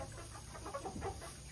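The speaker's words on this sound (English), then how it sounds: "And you can notice the chickens here, they're pecking around at some bugs on the ground." Pasture-raised chickens foraging for bugs on the ground give soft, faint clucks over a steady outdoor background hiss.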